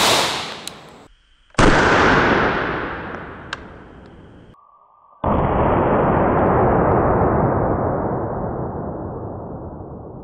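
Two sharp 9mm gunshots from full metal jacket rounds fired into a container of oobleck, each a loud, close blast followed by long ringing decay, the second report trailing off for several seconds.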